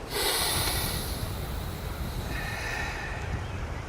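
A long, sharp sniff of air through the nose on a beach, close and breathy, followed by softer steady breathing.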